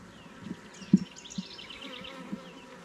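Honeybees buzz steadily close by on hive frames during a package inspection, a soft droning hum with a few louder individual bees passing near.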